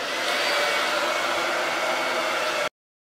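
A hair dryer blows steadily on a cupboard to dry freshly applied Dixie Belle glaze, a close, even whooshing roar for a few seconds that cuts off abruptly, with no talking.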